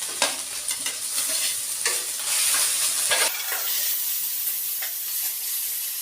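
Ginger and garlic fry in a pan for a bottle gourd and taro fish curry, a steady close sizzle with stirring scrapes and bursts of hissing steam running throughout, no voices.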